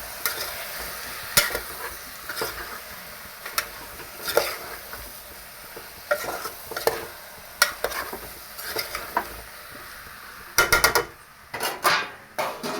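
Cluster brinjals fry in a large pan while a spoon stirs them: repeated sharp scrapes and taps against the metal over a steady sizzle, close and fairly loud, with a quick burst of strokes near the end.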